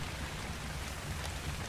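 Rain falls in the video game ARK, a soft, even hiss of drops with a low rumbling bed underneath, steady throughout and without speech.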